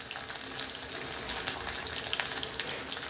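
Cauliflower is stir-fried in tempered oil in a pan, with a continuous hissing sizzle and light crackles at close range and no talking.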